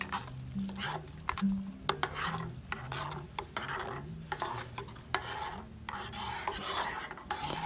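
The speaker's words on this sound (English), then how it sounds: "the instructions say stir for about a minute" Spoon stirring food inside an aluminium Osprey canteen cup of a British Army Pattern 58 set over a small twig fire outdoors, giving steady close scraping and rasping strokes in a repeated rhythm, with faint background noise.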